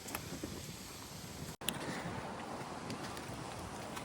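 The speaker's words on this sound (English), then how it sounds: "It's getting windy." Steady broadband wind rushing across the microphone, continuous and fairly loud, with a brief dropout partway through.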